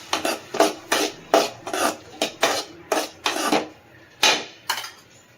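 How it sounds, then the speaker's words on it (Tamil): Onions and tomatoes being sautéed in a pan, with a spatula scraping and rasping against the metal in a steady rhythm of about a dozen close, distinct strokes and no talking. "இப்போ நம்ம கட் பண்ணி வச்சுருக்க தக்காளியை இதில் சேர்த்துக்கலாம் அதுவும் நல்லா வதங்கட்டும்"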